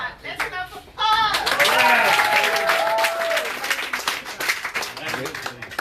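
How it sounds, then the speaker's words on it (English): An audience at a business gathering bursts into loud, sustained applause for Paul, many hands clapping densely together at close range, with a voice speaking over the start. "Let's clap for Paul."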